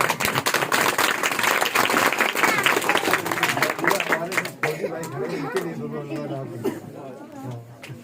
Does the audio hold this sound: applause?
yes